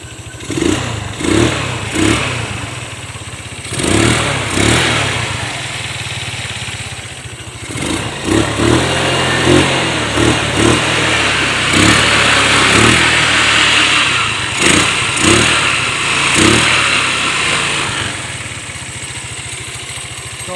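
A Rusi Scooter 110 fitted with an XRM-125 carburetor revs repeatedly up close, its loud engine rising and falling in bursts before settling into a sustained high idle with further throttle blips.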